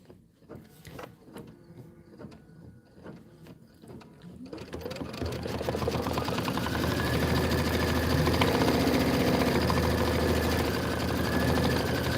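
An embroidery machine stitching out an autumn wind design in a 5x7 hoop runs with a loud, steady rapid stitching drone that builds up after a few seconds of lighter tapping and clicks.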